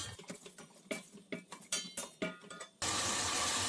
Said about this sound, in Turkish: Havuçlar rengini verene kadar yağda kavuruyorum